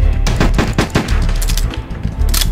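Loud, rapid gunfire from enemies in a student-made shooter video game, repeated sharp shots in quick bursts, close and continuous throughout with no talking.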